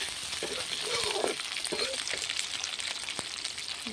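Onion, ginger, garlic and whole cumin fry in oil in a kadai, giving a steady close sizzle with a few scraping stirs.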